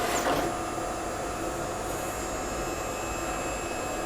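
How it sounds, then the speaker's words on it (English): A printer whirs steadily in the background, a continuous mechanical drone with a brief clatter at the start. "you can hear the printer in the background hopefully"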